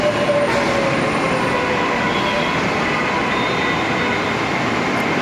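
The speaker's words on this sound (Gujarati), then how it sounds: "મેટ્રો આવી છે." A Mumbai metro train arrives at the platform, with a loud, continuous rush of wheels and carriage noise and a faint high squeal of wheels on rails.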